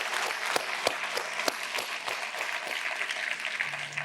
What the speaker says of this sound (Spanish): Porque nos damos una ofrenda de palmas